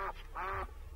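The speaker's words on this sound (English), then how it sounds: "Why is the game forcing me to kill these innocent ducks?" Ducks quacking in the PC game Dink Smallwood, two quick nasal quacks, the second longer, clear and close with no talk.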